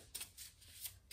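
Oracle cards being shuffled and drawn by hand, a brief papery riffle with a few quick soft bursts, close and quiet.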